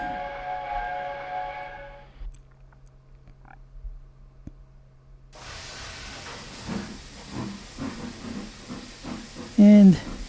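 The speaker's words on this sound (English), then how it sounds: "And leaving the station on our way on our last leg to Rhyd Ddu." A steam locomotive leaves a station on the Welsh Highland Railway in a train simulator game. A steady hum gives way to a loud burst of steam hiss and chuffing, with a short whistle-like tone near the end.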